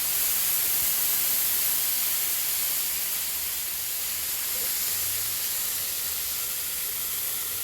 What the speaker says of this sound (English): now we're going to melt the cheese and steam these a little bit